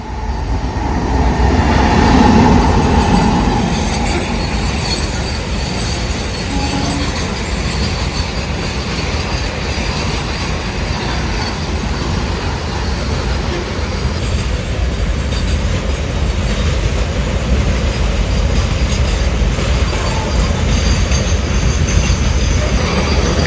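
A Container Corporation of India goods train with many wagons rolls past at Suravali, Goa, a loud, steady roar of wheels and wagon rumble filling the whole stretch, with faint squeal and clatter throughout.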